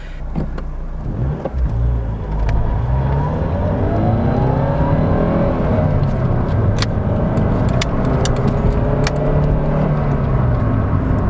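A Ford Puma with a small engine drives and accelerates, its engine note climbing and falling through several gear changes in a steady, close, continuous drone with no talking.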